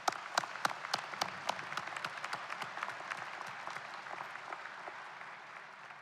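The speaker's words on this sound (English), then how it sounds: "Please give them a round of applause." A commencement ceremony crowd applauds honored community advocates with crisp, scattered claps that start fairly strong and gradually thin out and soften over six seconds, with no talking.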